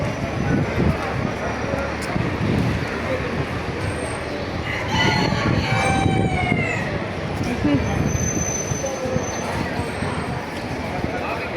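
Amid busy outdoor crowd noise and chatter at a second-hand market, a rooster crows briefly in the middle, partly buried under the din.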